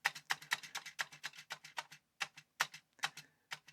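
Fingers type on a Commodore computer keyboard with a flaky spacebar, making a quick run of crisp, close key clacks with short pauses between bursts.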